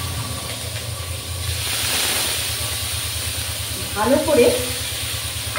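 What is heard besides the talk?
garlic and onion paste frying with nigella seeds in oil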